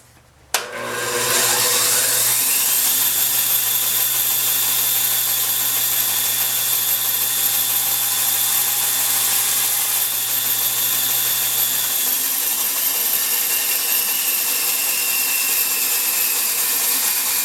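A power tool starts up and runs at a steady high whine for a long stretch, its pitch shifting slightly as it cuts wood for model railroad evergreen trees, close and loud.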